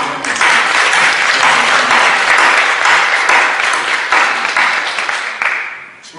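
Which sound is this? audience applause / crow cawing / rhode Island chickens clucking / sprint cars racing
audience applause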